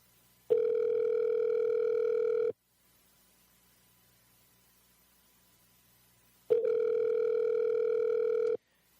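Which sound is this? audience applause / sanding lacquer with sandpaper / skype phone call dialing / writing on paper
skype phone call dialing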